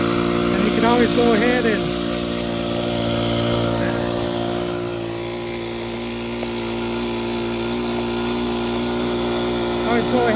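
A vintage Cub RC model airplane engine runs on its own at a steady, droning pitch, while someone talks over it close by.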